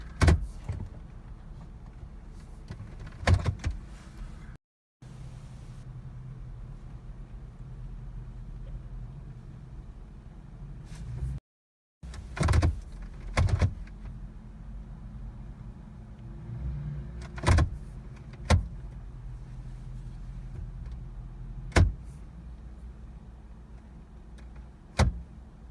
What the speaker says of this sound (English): Instruments come on, cluster comes up, but the Jeep's not starting.